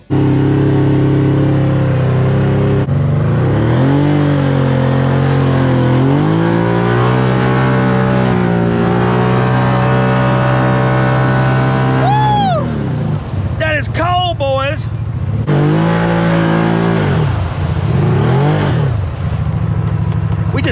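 A turbocharged Ford Maverick pickup revs hard while mudding, its engine climbing and falling in repeated loud, close surges with a brief sharp burst of high revs near the middle.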